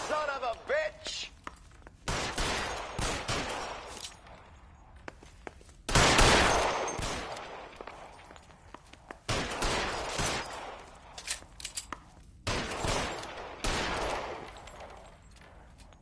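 Bursts of gunfire from the video game L.A. Noire crack in loud clusters, with short pauses between the volleys and heavy thumps mixed in.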